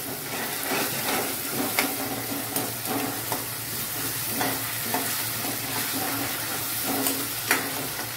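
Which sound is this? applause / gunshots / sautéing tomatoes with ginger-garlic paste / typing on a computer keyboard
sautéing tomatoes with ginger-garlic paste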